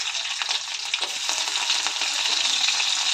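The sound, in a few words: finely chopped green chillies frying in hot oil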